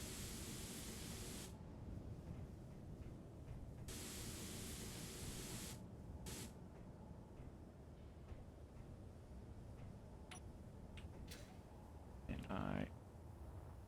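Hissing bursts of paint spray in the video game Space Engineers, applying dusty gray to a block; steady broadband spray runs in long stretches with short gaps, with a person talking intermittently over it.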